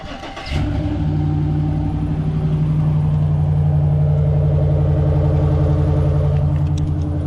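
Car engine starting and settling into a steady, loud idle with a deep exhaust rumble, running continuously close by with no talking.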